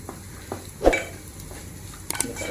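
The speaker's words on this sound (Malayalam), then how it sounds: "ഇതൊന്ന് നന്നായിട്ട് മിക്സ് ചെയ്യാം." A spoon stirs mushroom mezhukkupuratti with pepper in a frying pan, giving a few scraping strokes and one louder clatter against the pan over a quiet, steady sizzle.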